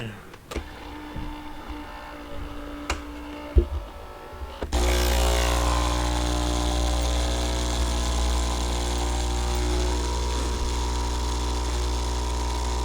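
A Philips 2230 espresso machine starts its rinse cycle: after a few faint clicks and taps, a loud steady pump hum kicks in and drones on continuously close by.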